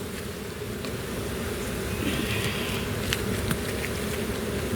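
Honeybees buzz around an open hive during a spring inspection in Kentucky, a steady close drone of many insects that stays even throughout, with no voices.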